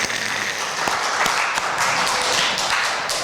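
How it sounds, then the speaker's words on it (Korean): A Korean Baptist church congregation in New York breaks into hearty applause during Sunday worship, a thick, even wash of many clapping hands that fills the room without pause. "하나님께 영광의 박수."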